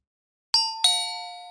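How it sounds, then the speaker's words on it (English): Doorbell ringing in the video game Heart Cage, two bright chime strikes in quick succession, clear and close, the second ringing out and slowly fading, with nothing else heard. "She looked anxious and kept ringing the doorbell."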